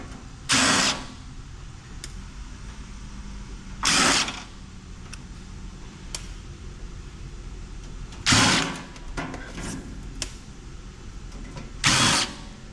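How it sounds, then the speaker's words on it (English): Screws being backed out of a DVD drive frame during e-waste scrapping, heard as four loud bursts of a powered driver spaced a few seconds apart, each lasting under a second, with quieter clicks and handling noise between them. "Now let's get the screws off of the frame."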